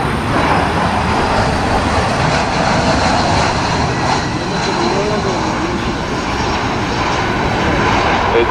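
Jetstar Airbus jet arriving on runway 16R at Narita airport, a loud, continuous engine roar close by that holds steady throughout, with an announcer talking over it.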